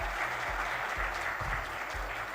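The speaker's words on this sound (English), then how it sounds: "Could we have another loud round of applause?" Audience applause at the Times of India Gadgets Now Awards 2022, a steady, full wash of clapping from a large crowd, sustained and fairly loud throughout with low thumps underneath.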